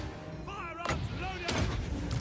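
Great cannon fire in a fantasy strategy video game, heavy booming blasts mixed with shouted battle cries and other game sounds, dense and busy throughout.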